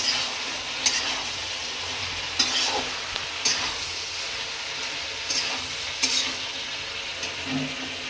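Tomatoes stirred in a hot frying pan, a steady broadband sizzle with a handful of sharp spoon scrapes and clacks against the pan at irregular intervals, no talking.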